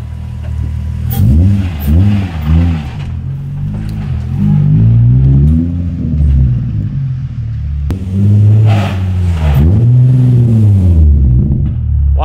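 A Nissan 350Z in need of a new clutch and throwout bearing revs repeatedly up close, the engine note rising and falling in loud sweeping pulls with a rough, rumbling idle between bursts.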